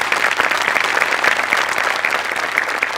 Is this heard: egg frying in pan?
no